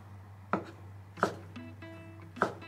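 Kitchen knife chopping kinoko mushroom stems on a cutting board: three distinct, evenly spaced thuds with a little soft handling noise between them, close and fairly quiet.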